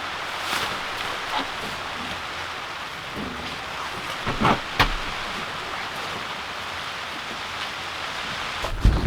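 Steady rain falls with a constant hiss, broken by a few louder drips or splashes, with no voices; part of a spell of several days of rain.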